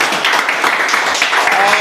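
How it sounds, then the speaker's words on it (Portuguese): A church congregation applauds during a worship service, a sustained wash of many people clapping at a fairly loud level, with voices faintly mixed in underneath. "Aplauda o nome de Jesus."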